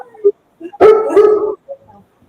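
A Cocker Spaniel in a room gives a loud, close, drawn-out bark with a whiny edge, set among short yips and whimpers before and after.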